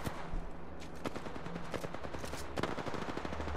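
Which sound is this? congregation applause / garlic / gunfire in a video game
gunfire in a video game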